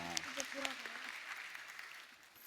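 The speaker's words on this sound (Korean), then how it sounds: "우리 하나님 앞에 박수로 한번 영광 돌립시다" A church congregation claps together during a Sunday worship service, a broad wash of applause that fades slightly toward the end. A voice speaks briefly at the start.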